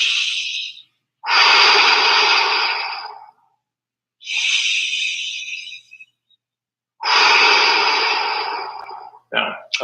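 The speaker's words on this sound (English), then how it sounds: "Just give me 2 nice breaths into extension." Slow, deep breaths during a Kinstretch mobility stretch held in extension: long hissing inhales and exhales, near and loud, in a steady rhythm of about four breath phases with silent pauses between.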